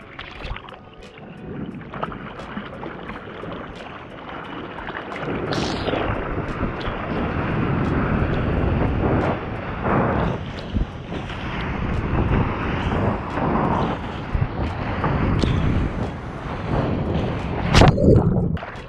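An ocean wave breaks at a left-hand surf spot at a Maldives resort, a broad rushing roar that builds and churns for many seconds, close and loud with wind buffeting the microphone.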